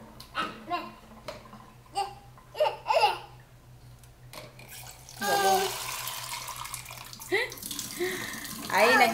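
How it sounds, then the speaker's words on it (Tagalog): Tap water runs into a sink in a home, a rushing splash that starts midway and continues under a woman's chatter and a baby's babbling and laughter. "Ay, nagsasayang ng tubig"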